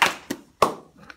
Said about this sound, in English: Give her 1 clap.